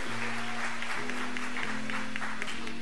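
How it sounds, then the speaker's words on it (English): Church congregation clapping along in rhythm while music plays underneath, with sustained low organ-like tones throughout. "Let's give the Lord a hand clap."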